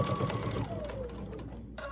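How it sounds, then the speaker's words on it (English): A sewing machine stitches fabric scraps for a quilt, a fast steady mechanical whir with tight rhythmic needle clatter, close and continuous, a brief pause and restart near the end. "So now I'm going to take it back to the sewing machine."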